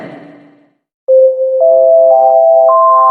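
Telephone ringtone sound effect. A brief burst of noise fades to silence, then a loud, steady electronic tone begins and steps upward in pitch as layered beeps build.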